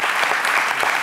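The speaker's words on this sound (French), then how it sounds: "Je voudrais qu'on acclame la troupe du roi David" An audience applauding a theatre troupe, dense sustained clapping from a crowd, steady and fairly loud throughout.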